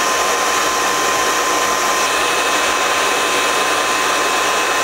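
A hair dryer blows steadily on a pre-plucked full lace glueless wig with curtain bangs, a loud, close, continuous whoosh with no break and no talking.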